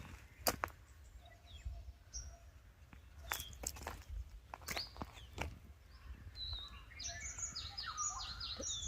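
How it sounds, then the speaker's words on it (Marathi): Birds calling in a quiet forest, scattered sharp clicks and snaps up front giving way to a rising flurry of high chirps and tweets toward the end, faint and moderately distant with no voices. "पक्ष्यांचा आवाज येतो बघा."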